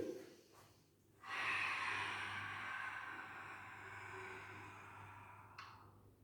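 One long, deep exhale during a Pilates exercise follows a brief intake of breath, a close, breathy rush that slowly fades, ending with a small sniff-like catch.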